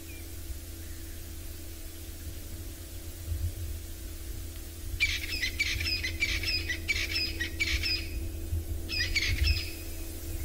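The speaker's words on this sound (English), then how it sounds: "there are a few hornbills calling, one or two francolins, some red-billed buffalo weavers" Safari bush soundscape with distant birds, hornbills, francolins and red-billed buffalo weavers, giving a cluster of raspy squawking calls over steady background hiss and hum, with quiet stretches before and after.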